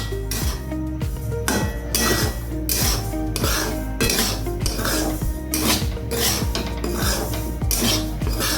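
A utensil scrapes and clatters against a pan in brisk repeated strokes as a lightly salted mixture fries for puli pitha. The sound is loud, close and continuous, with metallic clinks and no voices.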